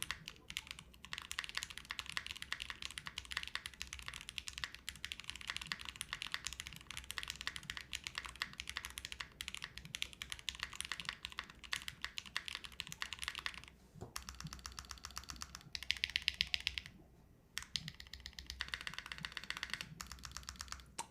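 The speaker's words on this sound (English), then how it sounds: "this sounds like a keyboard" Steady, brisk typing on a mechanical keyboard, close and clear, with rapid overlapping keystrokes running continuously and a couple of brief pauses near the end; no voices.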